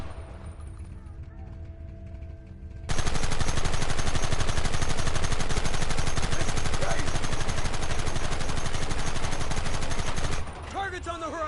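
Red Dead Redemption gunfire erupts suddenly from quiet into a loud, sustained barrage of rifle and machine-gun fire that rattles on for several seconds before cutting back down near the end.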